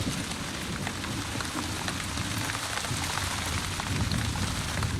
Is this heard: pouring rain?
yes